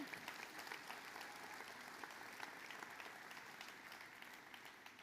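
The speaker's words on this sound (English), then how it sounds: "Yes, applaud for that." Audience applause fills the space steadily for several seconds, a dense wash of many hands clapping heard at a moderate distance without voices on top.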